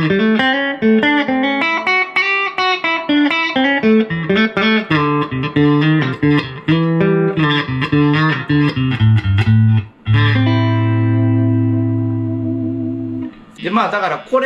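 Electric guitar through a Fender Tone Master Princeton Reverb set to about 3 on the reverb, a loud run of picked notes and chords ending in a long ringing low chord, then a brief strum.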